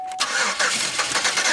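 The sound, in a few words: Pontiac Aztek starter cranking the engine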